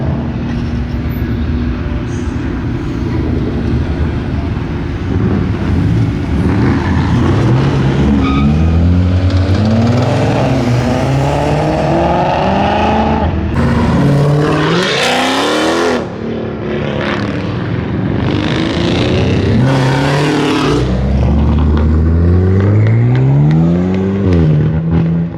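A Ford Mustang does donuts at a rowdy car meet, its engine revving up and down in rising and falling sweeps while tires squeal and skid loudly over a sustained roar, heard from a short distance without talk.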